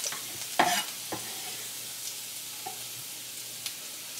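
Garlic sautéing in a pan for Cajun seafood with shrimp, a soft steady sizzle broken by a few scraping stirs of a utensil, one louder scrape early on, no talk.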